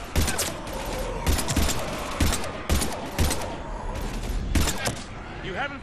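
Gunfire from the sci-fi shooter game Mass Effect 3 comes in loud, repeated close bursts at a regular rhythm, with a voice heard faintly in the mix.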